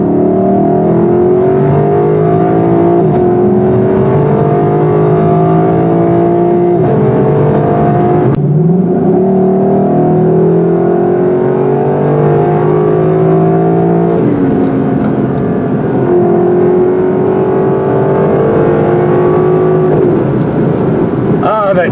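A 2021 Lexus LC500 Convertible engine pulls hard and revs up through the gears, a loud sustained drone rising and dropping in pitch.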